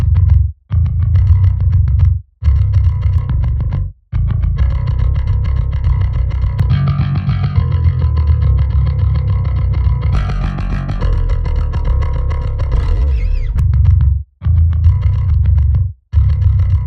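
Bass guitar played through the L.E.A.D. amp plugin and its built-in cabinet impulse responses, giving a thick, distorted, growling tone of sustained notes with brief silent gaps between phrases, loud and close.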